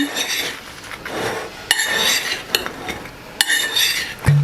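Eggplant salad being tossed with dried Italian herbs in a bowl, a few close clinks and scrapes of utensil against dish with soft rustling between.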